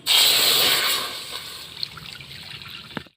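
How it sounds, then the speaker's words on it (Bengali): Cow's milk is poured into a hot wok (karai) while making sugar-free pitha with cane jaggery: a loud, hissing splash for about a second, settling into a quieter bubbling trickle. "দুধ দিয়ে দিচ্ছি গরুর দুধ"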